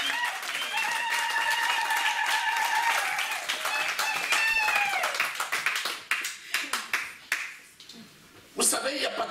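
A church congregation clapping in praise during a worship service, rapid uneven claps from many hands over sustained singing voices, thinning into scattered claps before a final burst.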